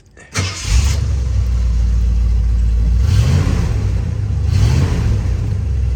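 A 1983 Ford F150 truck engine cranks briefly and catches, then settles into a loud, steady idle close by, with two gentle swells in revs as it runs.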